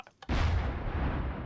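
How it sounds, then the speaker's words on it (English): A cannon in a modded Minecraft game fires with a single sudden, heavy boom after a few faint clicks, then a long rumbling roar that slowly fades. "right now I just want to fire the cannon"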